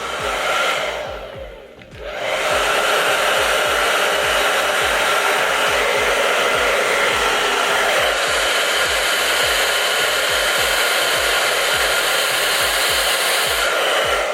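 A hair dryer on its cool air setting blows steadily and loudly, its airflow dipping briefly near the start before settling into a constant, unbroken whoosh.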